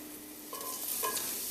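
Four finely chopped garlic cloves fry in vegetable oil, giving a steady close sizzle with a brief stirring scrape partway through and no talking.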